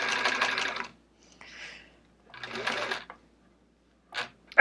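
Sewing machine stitching in the ditch on a Charming Chevrons quilt, running in short bursts: a long steady stitching run, a brief faint one, another run, then a quick burst and a sharp knock at the end.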